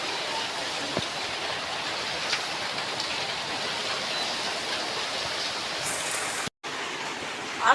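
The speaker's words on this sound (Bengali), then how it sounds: "আজকে দেখেন বাইরে প্রচুর বৃষ্টি" Heavy rain outdoors soaking tree leaves, a loud, dense and unbroken wash of noise with a few faint thuds, steady for the whole stretch apart from a momentary dropout near the end.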